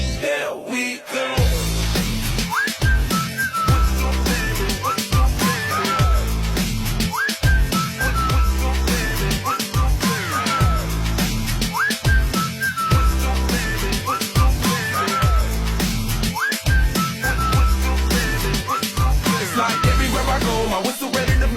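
A man whistles a lively tune over a rhythmic thumping beat, the bright whistled notes repeating in short phrases against a steady musical backing.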